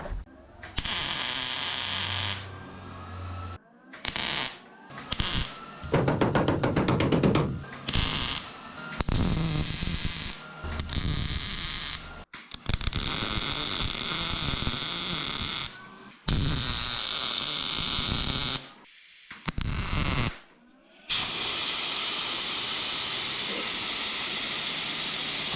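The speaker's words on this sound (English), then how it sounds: "So let's go get that welded on." MIG welding a patch panel onto the rocker panel of a Datsun 280Z, a loud sputtering crackle in bursts of varying length separated by brief pauses, with no talking.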